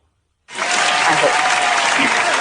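Audience applause at a live comedy call-in show surges in suddenly after a brief silence and holds as a dense, loud, steady wash of clapping to the end.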